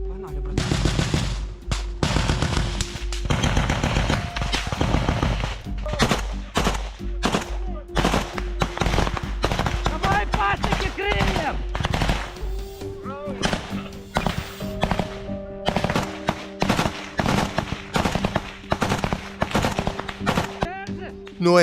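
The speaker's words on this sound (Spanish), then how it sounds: "De repente hay disparos y violencia en medio del bosque." Combat gunfire in a forest, with dense bursts of automatic fire and single shots rattling nearly nonstop, loud and close, and shouting voices mixed in.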